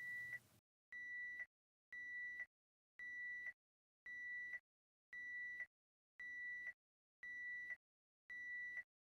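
A therapy device sounds its power failure alarm: a loud, high-pitched electronic beep repeating eight times at a steady, even pace, each tone about half a second long with short silences between.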